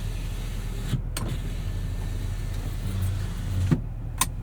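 Power rear window of a 2025 Chevrolet Silverado 2500 Trail Boss running on a snowy day: a steady electric motor whir inside the cab, ending in a couple of soft clunks as the glass stops, close and with no talk.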